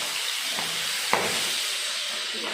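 Fish frying in hot oil in a pan gives a loud, steady, close hiss and sizzle throughout, with a couple of faint soft knocks.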